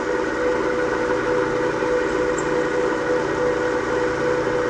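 A lathe turns a metal part for a 1974 Honda MT125 Elsinore, making a loud, continuous, even machine whine with a steady tonal hum and no pauses.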